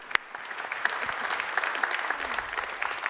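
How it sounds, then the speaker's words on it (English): An audience at a high-level agriculture policy panel applauds the panelists with steady, dense clapping that carries evenly throughout, fairly close and moderately loud. "the panelists, our host, and Professor Swinnan have truly merited that round of applause"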